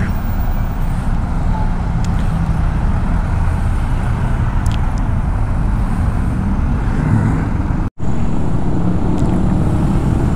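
Road traffic in Batangas, a steady dense rumble of passing vehicles and engines, continuous and fairly loud throughout with a brief dropout near the end and no talk.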